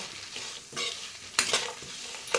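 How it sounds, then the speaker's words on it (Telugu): Garlic, coriander seeds, cumin, chana dal, urad dal, curry leaves and tamarind fry together in a pan for coconut spice powder, giving a soft, quiet sizzle cut by a few sharp scraping stirs. "మొత్తం వెల్లుల్లిపాయలు అలాగే ధనియాలు జీలకర్ర పచ్చనిపప్పు మినపప్పు కరివేపాకు చింతపండు మొత్తం అనేసుకుని ఫ్రై చేస్తున్నానండి"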